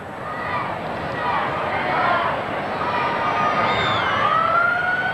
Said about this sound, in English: And there's the siren for half-time.